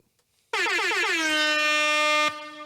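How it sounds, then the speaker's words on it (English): A single loud air horn blast starts suddenly after a brief quiet, holds a steady bright tone for nearly two seconds, then cuts off. "And they get air horns."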